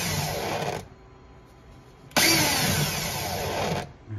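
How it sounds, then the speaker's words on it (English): A cordless power drill whirs in two bursts, a short run then a longer one, with a brief quiet gap between them, during HVAC air handler cleaning. "She's acting like a normal drill now."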